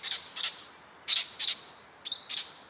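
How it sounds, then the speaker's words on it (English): Parrots squawk from a tree in Sydney in six harsh, bright bursts that come in pairs at fairly steady intervals. The calls are moderately close, with no talking. "That's a parrot of some sort."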